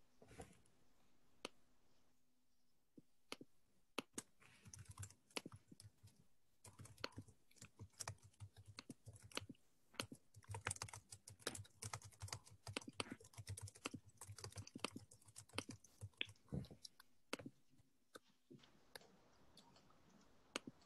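Rapid clicking keystrokes on a computer keyboard as a password is entered, an irregular stream of close, sharp taps with brief pauses, and no talking.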